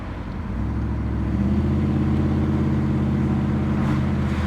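An LT1 Firehawk with an automatic and stall converter starts into a steady, loud idle, a low rumbling burble that settles and holds evenly close by.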